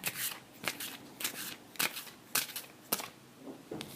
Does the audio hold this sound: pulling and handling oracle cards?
yes